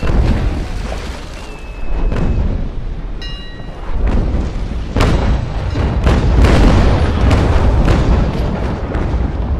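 Ship cannons firing broadsides in a naval battle game with brigs at sea, deep rumbling booms in repeated bursts over a constant low roar, loud and close, with sharp cracks and a few tonal game cues, no talking.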